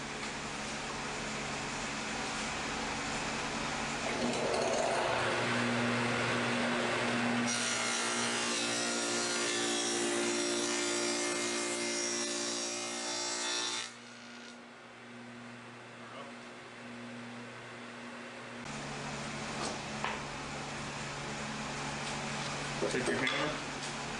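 A power saw runs steadily through wood with a bright, rasping whine, its pitch shifting as the blade bites and then settles, while building a child's desk; voices murmur underneath.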